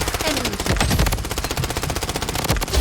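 Rapid automatic gunfire in the mobile shooter Blood Strike, loud sustained bursts of rattling shots filling the whole stretch without pause.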